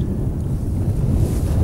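Strong wind buffets a tent camp on a mountaineering expedition, a short, loud, rumbling gust roar with no voices.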